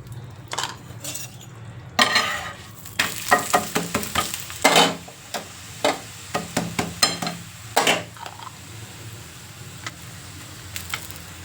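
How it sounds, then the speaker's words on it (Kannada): Chapati cooking on a hot pan as oil is added, giving a steady sizzle punctuated by repeated clinks and scrapes of a utensil against the pan, close and clear with no talk. "ಇವಾಗ ಚಪಾತಿ ಬೇಯ್ತಾ ಇದೆ. ನಾನು ಹಿಂಗೆ ಮೇಲಕ್ಕೆ ಸ್ವಲ್ಪ ಎಣ್ಣೆ ಹಾಕ್ಬಿಡ್ತೀನಿ."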